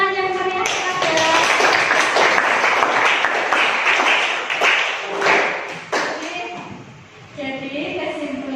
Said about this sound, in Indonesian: Beri tepuk tangan yang meriah kepada.